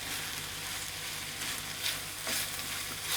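Shakshuka frying in a pan as chopped fresh herbs including thyme are stirred in, a steady close sizzle with soft scraping stirs rising now and then.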